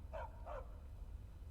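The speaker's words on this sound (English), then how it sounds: "Barks a lot." A dog barking in the video game Skyrim, two short barks close together early on, faint over a low steady background hum.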